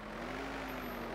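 A tractor engine idles steadily in the Turbo Dismount video game, a low continuous rumble with a faint constant hum, close and unbroken, with no talk over it.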